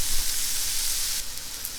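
Togarashi-coated ahi tuna sears in a pan over high heat, giving a loud, steady sizzle and hiss with faint crackles. The sizzle brightens briefly near the end.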